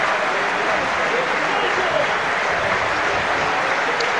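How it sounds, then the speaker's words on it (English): A stadium crowd at an athletics championship claps in support of a javelin thrower, a steady distant wash of applause under a commentator's voice. "You can hear that clapping in the background"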